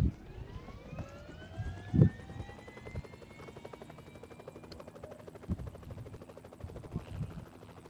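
Helicopter in PUBG Payload Mode, a steady rhythmic rotor chop with a rising whine, fairly close and continuous, with a few louder thumps along the way and no talk in this stretch.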